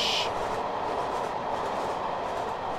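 A train rolls steadily in Train Simulator 2018, a continuous loud rumble of wheels and running gear with a brief high squeal at the start, no talk.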